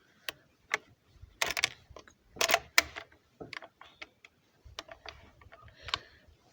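A bolt-action shotgun with a shell lifter is worked by hand, giving a close series of crisp metallic clicks and clacks in uneven bursts against quiet surroundings.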